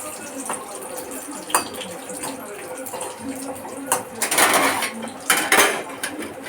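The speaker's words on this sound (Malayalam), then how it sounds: "കുറച്ച് ഒരു ലൈറ്റ് ബ്രൗൺ ഷെയ്ഡ് വരുന്നവരെ ഒന്ന് ജസ്റ്റ് ഒന്ന് ഇളക്കുക." Food stirred and sautéed in a pan until light brown for a chicken dum biryani, a close continuous sizzle broken by clattering spoon scrapes, with a voice talking over it.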